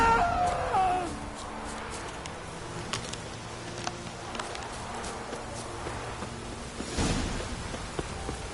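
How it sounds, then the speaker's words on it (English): Steady rain falls in The Witcher 3 on Fyke Isle, a soft continuous wash with faint hoof clops and scattered ambient game sounds, a louder swell near the end. "Looks like rain."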